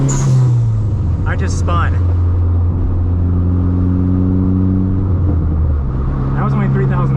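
Dodge SRT-4 engine revving to about 3,000 RPM, a loud, close, continuous drone with a rising then falling pitch, while someone talks briefly over it.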